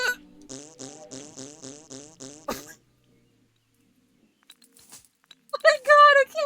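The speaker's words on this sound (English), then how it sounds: "We had to jump and fart." Cartoon cat character in the Pistol Cat video game farting as it jumps, a run of six or seven short buzzy toots in quick rhythm ending on a sharp burst, followed by silence and then game sound.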